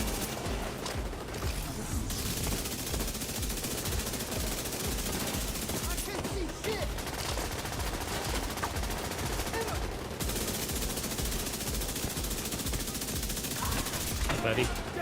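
Rifle gunfire in The Division 2, sounding as bursts of rapid shots through a noisy game mix, with a few short pauses and faint voices now and then.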